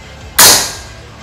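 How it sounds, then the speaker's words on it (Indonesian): A single sharp shot from a full-CNC PCP Predator Glory air rifle during a power test, a loud sudden crack that decays over about half a second with no talk. "Tembakan pertama."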